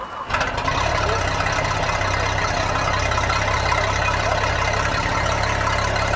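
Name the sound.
engine starting up and idling after no-start repair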